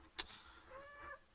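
A pet cat gives a short, faint meow, preceded by a brief sharp click, in a quiet room.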